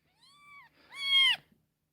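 A Bombay kitten meows twice up close, a short cry followed by a louder, longer, strained meow.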